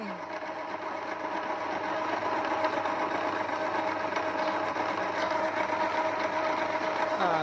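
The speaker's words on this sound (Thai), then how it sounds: "ตอนนี้ก็ทำการกลึงนะครับกลึง" A lathe turns the end part of a Honda MSX 125 motorcycle crankshaft with a steady, continuous mechanical hum and high whine, close and moderately loud throughout.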